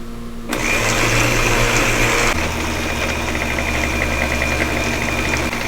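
A blender purees kale in a kitchen, its motor whirring loudly and steadily after it kicks on, with a shift in pitch partway through as the blend continues without pause.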